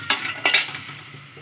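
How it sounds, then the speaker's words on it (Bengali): Lentil dumplings (dal bori) fry in hot oil with a steady sizzle, broken by a couple of sharp utensil scrapes and stirs near the start, close and fairly loud, with no talking. "ডালের বড়িটা সাথে সাথে ভাজা হয়ে যাচ্ছে"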